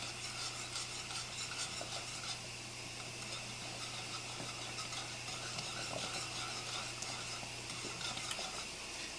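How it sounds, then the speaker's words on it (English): Whisk stirring mac and cheese sauce in a pot, a steady scraping and clinking of metal against the pan that continues without a break under a constant low kitchen hum. "Doesn't make any difference which direction you whisk it"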